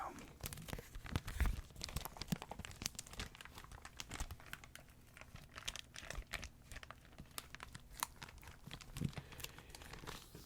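Close, quiet crinkling of a plastic library book cover, irregular crackles and taps scattered across ten seconds with some louder crunches, in an intimate ASMR setting.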